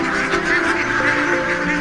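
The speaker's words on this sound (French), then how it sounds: "Le soir, les canards reviennent d'eux-mêmes dans leur habitat" A flock of ducks at a duck farm honks and quacks together, a dense, continuous nasal chorus close by and fairly loud, with no break across the short stretch.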